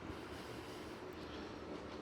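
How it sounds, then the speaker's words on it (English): A large model train runs along its track with a steady, dense rolling rumble and hum, faint and continuous throughout with no pauses. "Nice big train though."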